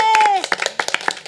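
Audience at a French televised news quiz show breaking into applause: a burst of sharp, uneven hand claps from a small crowd, starting just after a sung or spoken note and continuing in scattered pops.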